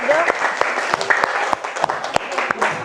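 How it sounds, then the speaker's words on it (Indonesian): Classroom applause from students for the first presentation group, a steady wash of many hands clapping close by for about three seconds, with voices mixed in. "kita beri aplaus untuk kelompok 1"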